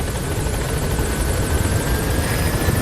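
The Pequod helicopter from Metal Gear Solid V comes in toward a landing zone with a steady, loud rotor and engine drone that holds for the whole stretch, with no talking.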